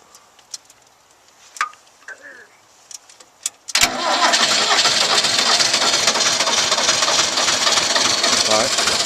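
A tractor engine cranks and catches after a few seconds of quiet knocks and clicks, then settles into a loud, steady running rumble close by.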